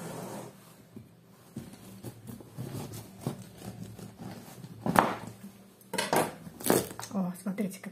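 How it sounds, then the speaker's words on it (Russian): A knife cuts open a large pumpkin on a kitchen surface, giving soft scraping and a few sharp knocks and clatters that grow louder toward the end, with faint background noise. "Сейчас мы разрежем, посмотрим, какая тыква внутри."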